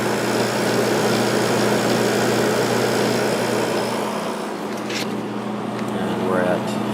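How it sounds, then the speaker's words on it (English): A Holmes 5200 BTU window air conditioner runs with a loud, steady compressor and fan drone that eases slightly toward the end. "Wait for that compressor to quiet down so you can see how quiet it is."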